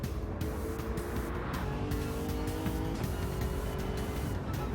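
Race cars in Gran Turismo 7 on the Nürburgring run side by side through a corner, with steady loud engine drone, shifting pitch and faint tire squeal throughout.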